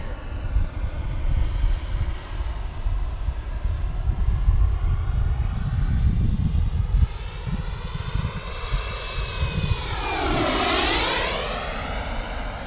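RC turbine-jet model Canberra flies a circuit, a loud steady engine roar that swells and sweeps past overhead with a falling pitch, then fades slightly as it moves away; no voices.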